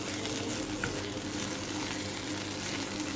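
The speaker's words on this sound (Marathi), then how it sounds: "कांदा, लसूण, खोबरं मसाला 2 टेबलस्पून आणि 1 टेबलस्पूनपेक्षा थोडंसं जास्त मीठ असं घालून हे परतणार" Onion, garlic and coconut masala sautéing in oil: a steady, dense sizzle and crackle throughout, moderately quiet and close, with no voices.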